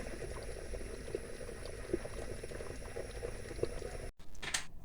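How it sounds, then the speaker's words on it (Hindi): Desi ghee simmers in a pot, bubbling and crackling steadily up close with scattered pops, then briefly cuts out before a louder stir or shift of the pot. "ये देखें इसको क्लियर होने तक हम ऐसे ही पकाएंगे जब तक घी ऊपर नहीं आ जाता।"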